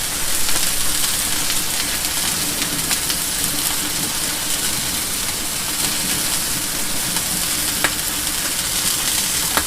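Ribeye burgers sizzle steadily in melting garlic parmesan herb butter, a dense, even frying hiss with faint crackles throughout, close and alone with no talk.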